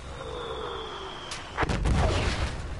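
Bombing explosion in Battlefield 1, a sudden heavy boom landing about midway with a rumbling, crackling tail, preceded by a thin whistling tone.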